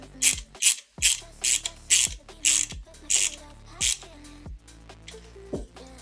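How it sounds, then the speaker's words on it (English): Screws driven by hand into a Fanhome Toyota Supra MK4 model kit: a run of about ten sharp, evenly spaced ratcheting clicks close by, slowing and fading toward the end. "we'll mount it in with 2 CP screws"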